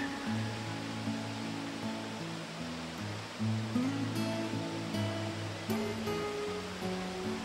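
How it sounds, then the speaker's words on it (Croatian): Constant roar of rushing water from Kravica waterfall in Bosnia and Herzegovina, a thick unbroken wash of sound heard from fairly close. "Veći vodopad, veće kupalište"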